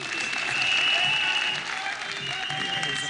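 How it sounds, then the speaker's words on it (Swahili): A crowd at a Safina Party political gathering breaks into sustained applause for the Deputy President, dense clapping that swells and then settles a little, with voices mixed in. "Makofi kwa Deputy Rais."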